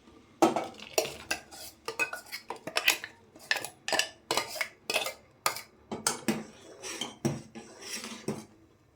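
Ground paste being stirred into cooked cucumber buttermilk sambar in a pot, with repeated rhythmic scrapes and clinks of a ladle against the metal, close and fairly loud with short pauses between strokes.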